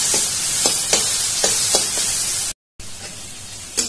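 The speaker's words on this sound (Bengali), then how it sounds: "এগুলি সব একসঙ্গে আমি এই পেঁয়াজের মধ্যে দিয়ে দিব। ভালো করে মশলাটা ভেজে নিব।" Masala spices, including red chilli powder, fry with onions in a pan. A loud, steady sizzle is broken by several sharp spoon scrapes and stirring clinks, with a brief silent gap and no voices.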